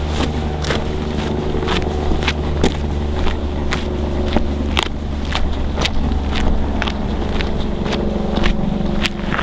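A 4-wheel drive vehicle brakes with ABS engaged on a dirt fire trail, giving a steady engine and tyre rumble broken by sharp, regular clicking and crunching pulses.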